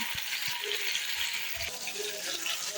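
Okra and tomato frying in a pan, giving a steady, close hiss of sizzling oil with a few soft clicks and stirring scrapes mixed in.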